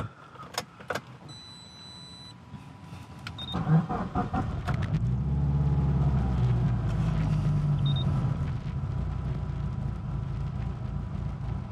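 A Mitsubishi Evo's starter cranks after a few sharp clicks, and the engine catches with a loud rev before settling into a steady, rumbling idle close by.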